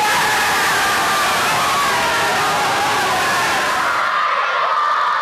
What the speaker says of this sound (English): The children of Rector Drew School in North Wales were cheering a homegrown hero.